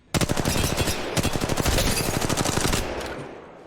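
Rapid automatic gunfire in Apex Legends Mobile, fired in tight controlled bursts of evenly spaced loud shots that run almost continuously for about three seconds before cutting off.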